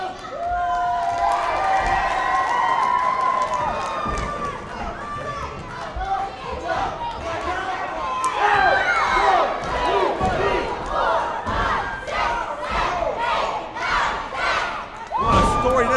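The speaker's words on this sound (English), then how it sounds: "And this crowd explodes with approval." A packed wrestling crowd roars its approval during a triple threat match, a loud, sustained swell of cheering and shouting with overlapping voices that rises and holds throughout.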